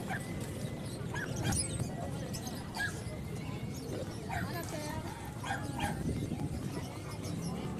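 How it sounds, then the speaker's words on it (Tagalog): Pomeranian dog at a busy pet market, yips and small whimpering barks scattered over a constant din of crowd chatter and other animals. "Ito ba yung Pomeranian?"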